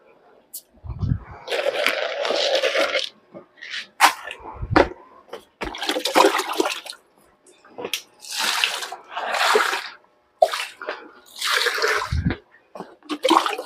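Water is poured and splashed into dry starter-stage pig feed in bursts, close and fairly loud, with short pauses and a few thumps between pours.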